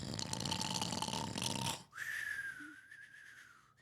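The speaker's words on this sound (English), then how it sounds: "but the bear snores on" A bear snores in an animated read-aloud story. A long, noisy rasping inhale breaks off and is followed by a softer whistling exhale, close and fairly loud.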